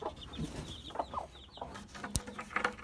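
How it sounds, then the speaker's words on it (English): Short soft clucks from a hen fussing over her chicks in a nesting area, coming in scattered bursts at close range with no voices. "Hey mama hen"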